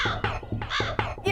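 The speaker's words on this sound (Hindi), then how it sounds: "ये कौवे," Several crows caw in quick succession, harsh repeated calls close by and loud, with no talking.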